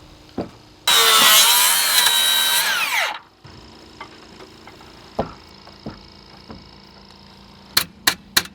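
A power drill runs in one loud, sustained burst of about two seconds as it re-drills deck footing piles, winding down at the end, followed by quiet handling knocks and a few sharp taps.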